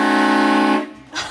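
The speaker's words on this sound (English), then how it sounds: "I just honk that horn." A Horn Blasters air horn on a lifted 2005 Jeep Wrangler TJ gives one loud, close, brassy blast that cuts off abruptly, followed by brief quiet.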